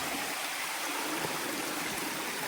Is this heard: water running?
yes